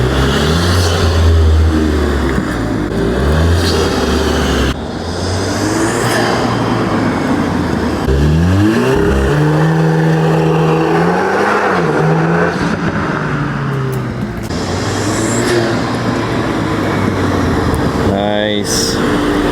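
Volkswagen MK8 Golf R engine accelerating hard through gears, with loud continuous engine drone and rising pitch sweeps marking shifts, heard from inside the car with people talking over it.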